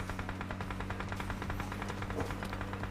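Rapid automatic gunfire in the mobile battle-royale game PUBG Mobile, a steady stream of evenly spaced shots running the whole time, loud and dense with no pauses.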